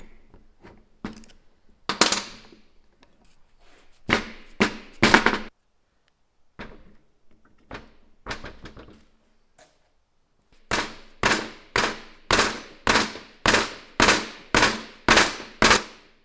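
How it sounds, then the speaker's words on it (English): A dead blow hammer taps parts of a cheap 8-inch jointer during assembly. Scattered close knocks come first, then a steady, evenly spaced run of about ten firm strikes. "once again using the dead blow hammer just to do the precision work"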